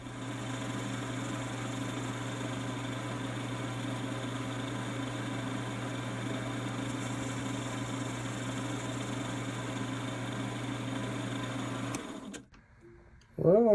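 A lathe fitted with a newly mounted rigid tool post spins at a steady pitch, giving an even, close mechanical whir with a constant hum. The motor cuts off abruptly near the end, followed by brief handling noises.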